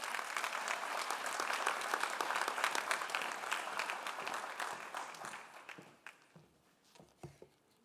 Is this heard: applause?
yes